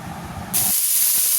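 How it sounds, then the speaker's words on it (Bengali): Sliced ridge gourd, potato, broad beans and vegetable stalks land in hot oil with a sudden loud, steady hiss of sizzling that follows a brief low rumble of stirring, all close and with no talking. "ঝিঙে, আলু, বটবটি, ডাঁটা একসাথে দিয়ে দিলাম। দিয়ে এটাকেও হালকা নাড়াচাড়া করে নিচ্ছি।"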